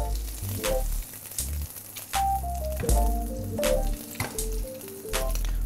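Shrimp and blackened salmon sizzle and spatter on a seafood grill, a close crackling fry with sharp clicks and uneven bursts as food is handled, and no talking.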